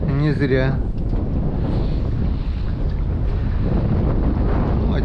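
Steady, heavy wind rumble buffets the microphone throughout, with a brief voice at the start, recorded outdoors during an evening fishing trip for burbot in bad weather.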